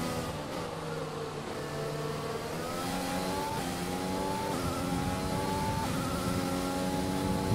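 A Formula 1 race car in the F1 2020 video game at the Japan circuit accelerates with a steady, loud engine whine whose pitch climbs through the gears, continuous throughout with no talking.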